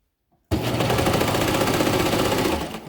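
A sewing machine stitches a gusset onto skort shorts, starting abruptly after a brief silence and running as a fast, steady, loud mechanical rattle close by, no talk.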